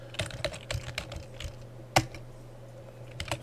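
Computer keyboard typing in short irregular bursts of clicks, fairly quiet and close, with one sharper key strike midway and no talking.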